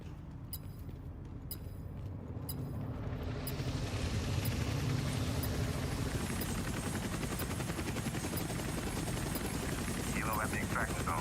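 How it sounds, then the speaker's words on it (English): A helicopter in Call of Duty Warzone hovers at the extraction zone, its loud, continuous rotor chop rising in over the first few seconds and then holding steady, with distant gunfire and a person talking over it. "Helo at the extraction zone."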